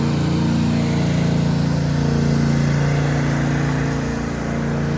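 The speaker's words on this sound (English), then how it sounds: "this turbo spools very quick" A turbocharged, nitrous-fed Pontiac Grand Prix GTP running on E85 drones loudly and steadily as it pulls under acceleration, its engine note holding a strong low hum with no one speaking.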